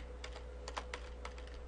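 Rapid clusters of keystrokes on a computer keyboard while writing code for a Minecraft block mod, clattering in irregular bursts over a steady low hum, close and fairly quiet with no voices.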